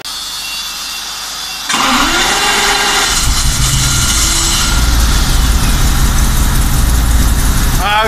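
A Mercedes G-Class engine cranks and catches, then settles into a loud, rough running rumble close by, a worn engine with some spark plugs still removed, with voices briefly present.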